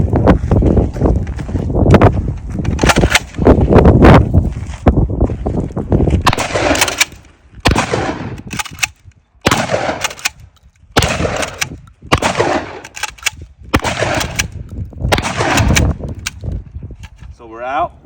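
A Smith and Wesson M&P 12 pump shotgun fires a series of loud, close gunshots at irregular intervals, with a pump-action racking sound between shots and some outdoor echo.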